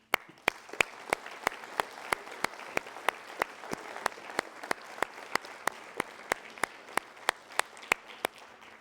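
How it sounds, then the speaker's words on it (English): Scouts and visitors at a Traveling Vietnam Memorial Wall history presentation give a round of applause, heard as a soft crowd clapping bed punctuated by a regular series of sharp, loud single claps close by, evenly spaced throughout. "I want a round of applause for everyone seated here."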